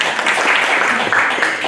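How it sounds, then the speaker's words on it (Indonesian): Audience applause at an open panel discussion in Indonesia, a steady dense wash of clapping from a hall crowd, sustained for the whole short stretch with a faint murmur of voices underneath. "Boleh tepuk tangannya"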